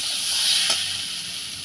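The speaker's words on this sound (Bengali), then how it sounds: "পেঁপেটা এরকম ভাজা ভাজা হয়ে এলে" Sliced papaya frying in oil in a pan with salt and turmeric gives a steady, close sizzling hiss that holds evenly throughout, with one brief crackle partway.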